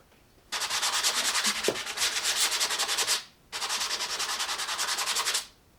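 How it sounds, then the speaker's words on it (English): Two long bursts of rapid, rhythmic scratchy rubbing as light sandpaper is stroked back and forth along fabric, with a short gap between them. "just really light sandpaper. And you just want to take it lightly along your fabric."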